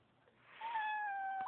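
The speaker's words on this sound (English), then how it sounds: "Oh, she just meowed." A kitten gives a single clear, drawn-out meow of about a second, close to the microphone in a quiet indoor room, rising in pitch and then tapering off.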